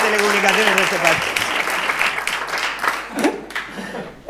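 An audience at a stand-up comedy show applauds in a loud burst of clapping that gradually thins and fades, with a voice briefly heard at the start.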